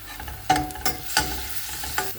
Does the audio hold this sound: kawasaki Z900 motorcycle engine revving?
no